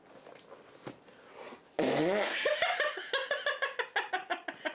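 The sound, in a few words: fart sound imitating a dinosaur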